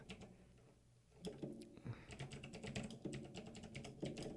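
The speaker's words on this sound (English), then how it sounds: "sorry for the keyboard sounds if you can hear that" Computer keyboard typing during a chill livestream, a quiet pause followed by a dense run of quick clacking keystrokes, close and fairly soft, with no talking.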